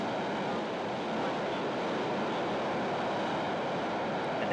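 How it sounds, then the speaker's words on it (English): Soyuz rocket engines ignite and ramp up at launch, giving a steady, distant broadband roar that holds even throughout. "there you can see the engine starting to fire, ramping up"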